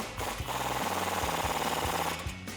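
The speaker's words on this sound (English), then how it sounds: "now we'll tighten our bolt down with our 21 millimeter socket" An impact wrench drives a 21 mm socket to tighten a suspension bolt on a 2012–2018 RAM 1500 during a lift kit install, giving a loud, continuous close rattling hammer for about two seconds.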